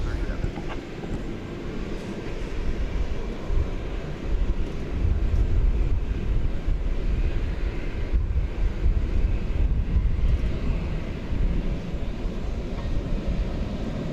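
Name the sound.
Flight 767 airliner to Louisville at DFW Airport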